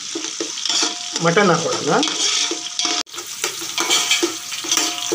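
Onions sizzling in a pan for biryani while a spoon stirs and scrapes through them, frying steady and close, with a short spoken line near the end.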